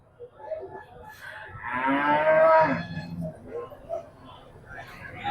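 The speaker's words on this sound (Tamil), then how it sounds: "இன்னைக்கு மட்டும் காலையிலேருந்து நாற்பத்தெட்டு மாடுகள் மொத்தம் வாங்கி சேர்த்து வச்சாச்சு" Cattle low at a cow market where dozens of cows are bought for farm use, with one long, loud, close moo rising and fading over about a second, among quieter lowing and people talking nearby.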